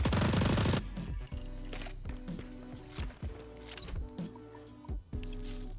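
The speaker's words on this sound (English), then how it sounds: "We've got 60 bullets, so both weapons are firing simultaneously" Dual SMGs firing together in the video game Rogue Company: a sharp loud opening burst, then a series of clipped rapid gunfire bursts and mechanical clicks spaced through the stretch, close and dry.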